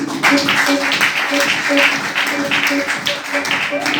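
Audience applause at a business plan presentation, a steady wash of clapping from a crowd that stays fairly loud throughout, with a voice speaking over it.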